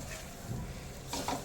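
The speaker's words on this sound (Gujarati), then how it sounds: "આપણે મિક્સ કરી લઈશું મસાલો." Spices are stirred into a raw mango side dish in a pan, giving a soft, steady sizzle with brief scraping strokes near the end.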